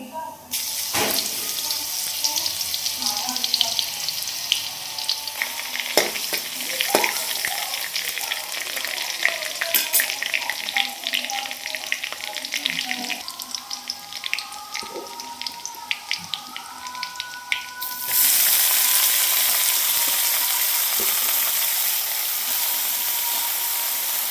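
Cumin seeds and crushed garlic fry in hot oil in a pan with a steady crackling sizzle and scattered sharp pops, then the hiss swells louder and smoother for the final stretch.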